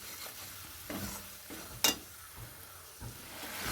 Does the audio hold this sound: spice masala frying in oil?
yes